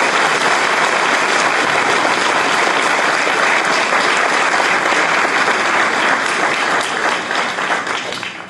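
Loud, dense applause from a large audience at a student awards ceremony, a sustained roar of clapping that holds steady for several seconds before beginning to fade toward the end.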